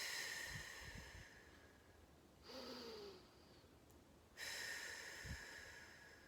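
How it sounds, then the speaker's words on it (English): A person performs a slow breathing exercise for COPD, drawing a breath in and then blowing out long, hissing exhalations through pursed lips, soft and close, with a couple of faint nasal sniffs. "that's pursed lips breathing"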